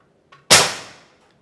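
Bocap Terminator PCP air rifle firing a single shot: a brief soft click, then a sharp, loud crack that decays quickly into a short ringing tail, heard alone in a quiet setting.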